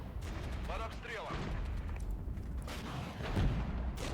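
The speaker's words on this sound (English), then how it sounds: "Our artillery is firing on these Leopard 2s." Artillery shelling Leopard 2 tanks in a war strategy game, dull booms and rumbling impacts rolling steadily at a distance beneath continuous battle noise, with speech-like sounds mixed in.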